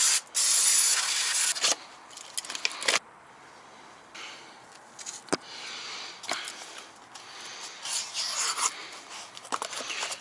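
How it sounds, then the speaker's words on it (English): A knife cuts through material in the workshop, producing harsh scraping and rasping strokes in uneven bursts, some long and loud, others short and faint, with brief pauses between them. "these knives are awesome. See how it's cutting? Cuts real nice."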